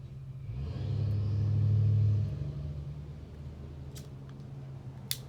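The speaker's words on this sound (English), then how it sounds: "Sorry about the road noise." Road traffic passing outside, a low rumbling vehicle drone that swells to a peak around the middle as a car goes by, then fades, followed by a couple of faint clicks.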